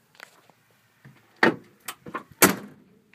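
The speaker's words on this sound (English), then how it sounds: "Doors open and shut fine." The door of a 1979 vehicle is opened and shut at close range. Several separate clunks, latch clicks and one solid slam are spread over a few seconds against near silence.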